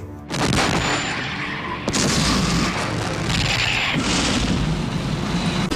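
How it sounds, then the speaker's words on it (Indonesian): Giant Nazi artillery gun called Werner Gustav firing in a Battle of Moscow war film, a heavy boom followed by dense, continuous blasts and rumbling for several seconds, with further sharp impacts layered in. "pasukan Nazi menembakkan artileri raksasa yang bernama Werner Gustav"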